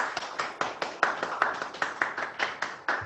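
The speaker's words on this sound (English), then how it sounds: "So let's give them a big round of applause." An audience at a school board meeting claps, and a handful of distinct hand claps sound close and fairly sparse in an uneven rhythm before tapering off.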